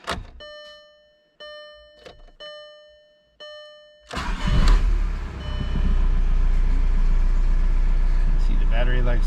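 A 2003 VW Golf MK4 TDI, with a faulty alternator pulley, gives off several electronic chimes before its diesel engine cranks and starts, then settles into a steady idle with a rattling clatter under the hood while a voice speaks over it.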